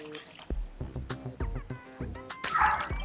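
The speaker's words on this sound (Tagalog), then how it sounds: "ang weird ng aso na yun" A dog in the mobile game Toca Boca barks and yips in short, cartoonish bursts close up, followed by a brief whimpering tone, with game sounds around it.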